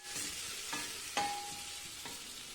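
Potato pieces fry in a pan over low gas while being cooked for a banana flower dish, a soft steady sizzle with a few light stirring scrapes, close and fairly quiet.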